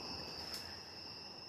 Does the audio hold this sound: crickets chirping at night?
yes